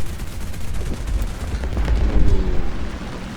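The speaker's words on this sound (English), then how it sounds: "now we are gonna be shooting some ground enemies" Rapid aircraft gunfire strafing ground targets in a flight video game sounds as loud, dense bursts of shots with booming impacts that continue throughout, without speech.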